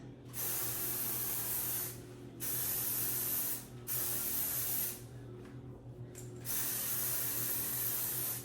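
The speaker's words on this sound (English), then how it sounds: "Spray the Protect." Heat protectant sprayed onto hair during a curling routine, four long aerosol bursts of two seconds or so each with short pauses between, close and loud over a steady low hum.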